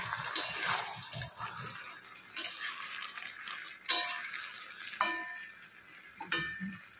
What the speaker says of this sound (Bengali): ঢাকনা খুলে আবার একটু নেড়ে চেড়ে দিচ্ছি।